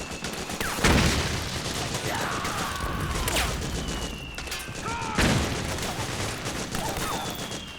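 Gunfire in the video game Metal Gear Solid 4: Guns of the Patriots, with sharp loud shots and bursts cutting through a dense battle din of clatter and rumble.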